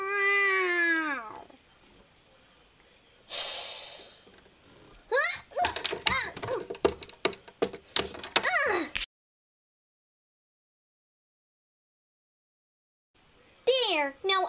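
A cartoon-style cat meows in a playful animated scene, with a high, wavering meow at the start followed by bursts of child-like chatter and squeals, then silence and a brief return of voices.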